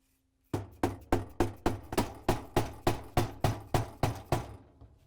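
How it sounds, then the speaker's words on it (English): A hammer taps a dowel over and over to tighten the lower spray arm of a Whirlpool/KitchenAid/Maytag dishwasher, about fifteen quick, even, sharp knocks that fade a little toward the end. "we're going to grab the hammer and the dowel again and tap it down until it's tight"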